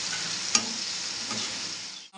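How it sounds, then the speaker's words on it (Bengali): Spiced masala with tomato and turmeric fries in a pan, a steady close sizzle running throughout, with a couple of brief stirring scrapes and a sharp knock near the start. "আমার মশলাটা কষানো হয়ে গেছে,"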